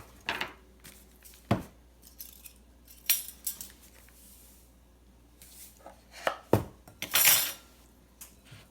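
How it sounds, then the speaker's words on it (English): Flour, baking powder and salt are sifted together for gluten-free biscuits, heard as scattered metallic rattles, taps and clinks of the sifter against a bowl, close and intermittent with quiet gaps between. "So we sift them together so that all the ingredients are mixed a little better before we start anything else."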